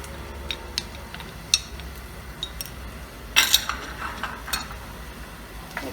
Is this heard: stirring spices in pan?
yes